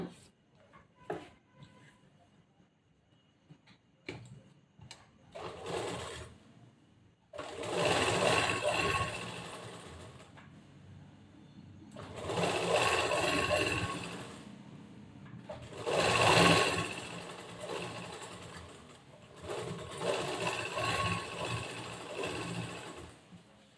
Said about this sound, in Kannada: ಇವಾಗ ಹಿಂಗೆ ಹೊಲಿಗೆ ಹಾಕ್ಕೊಂಡಿದ್ದೀವಲ್ಲ,